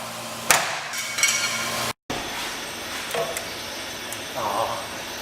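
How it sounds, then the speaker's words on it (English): Sharp metal hammer blows ring out in a garage while an LS turbo Miata kart is being built, a loud strike followed by a few scattered knocks and hissy workshop noise, with a brief dropout midway. "Need a hammer."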